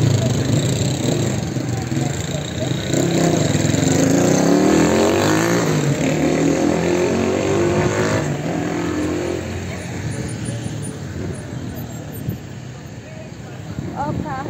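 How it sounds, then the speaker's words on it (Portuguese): A car driving past along a city street during the Festa do Divino Pai Eterno in Trindade, Goiás, a loud steady engine rumble that swells and then slowly fades against busy background noise, with no talking. "Olha o carro, Vitória."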